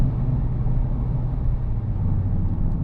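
A Mitsubishi Evo X accelerates hard with an automatic second-to-third gear shift, heard from inside the car as a dense, steady low engine rumble and road roar with no clear break.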